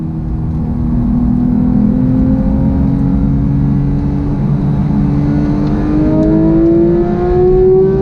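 A Porsche GT3 RS with a Sharkworks exhaust accelerates hard, its engine note climbing steadily through the revs in one loud, continuous, close-up pull with no talking.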